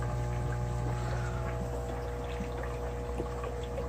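An aquarium filter set above the water line pours a constant stream into a shrimp tank, a steady splashing trickle over a low hum, heard close and unbroken with no talking.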